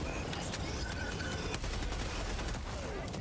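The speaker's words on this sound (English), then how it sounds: "My auto cannon turret." Autocannon turret in the video game Helldivers 2 firing a dense, rapid volley of sharp shots, continuous and fairly loud throughout with no pauses.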